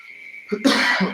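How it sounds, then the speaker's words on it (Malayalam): One harsh, close cough bursts out after a moment of near quiet, with a short raspy tail. "ചുമ പിടിച്ചു കേട്ടോ"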